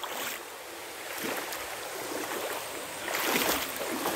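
Loud rushing river water at a flooded river crossing deepened by rain, a continuous broad roar swelling and surging, heard alone without talk.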